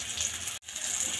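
Sliced onion sizzling in a couple spoons of oil for egg bhurji, a close, bright steady sizzle briefly cut off mid-way before resuming.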